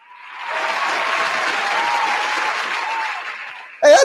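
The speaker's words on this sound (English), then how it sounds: "I like those cheering sounds coming from your Roadcaster Pro there" A burst of crowd cheering and clapping played as a sound effect from a Rodecaster Pro during a St. Louis Blues pregame show swells in, holds, then fades before a short electronic tone at the end.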